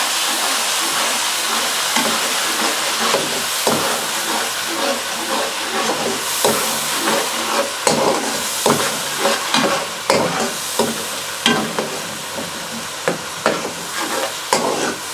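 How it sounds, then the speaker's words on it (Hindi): Onion paste frying in hot oil for a chicken and pea curry, a dense, loud, continuous sizzle and hiss with repeated scraping stirs throughout, no voices. "प्याज को हम 1 मिनट तक फ्राई करेंगे"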